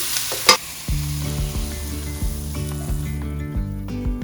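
Turnip cake pan-frying over higher heat in leftover sauce, a steady close sizzle with crackling spits throughout, plus a sharp clatter near the start and repeated low tonal hum bands underneath; no one speaks.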